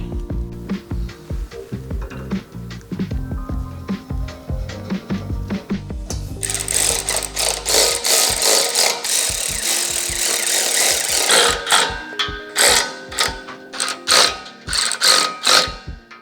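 A socket wrench ratchets bolts into the mounts of a front bull bar on a Lexus GX550, first in slower turns, then in a busy run of close, rapid clicking bursts with some metallic clatter.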